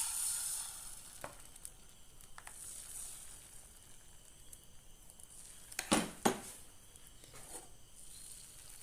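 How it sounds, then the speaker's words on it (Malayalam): Batter poured into a hot pan sizzles quietly and steadily, with a couple of sharper scraping clatters partway through, close up and with no voices. "ഇതിലേക്ക് നമ്മൾ മാവ് ഒഴിച്ചു കൊടുക്കാം."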